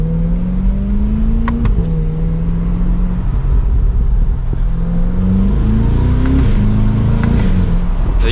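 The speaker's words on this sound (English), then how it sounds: "So you can hear a little bit of that exhaust." A 2023 Chevrolet Corvette 3LT 70th Anniversary with stock exhaust, driven top-down with the windows up, hums with a steady low engine drone that rises and shifts pitch through gear changes, continuous and close.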